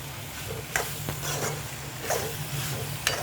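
Pasta with ketchup is stirred in a pan over high heat, giving a steady sizzle and a few sharp scraping strokes, close and without talk.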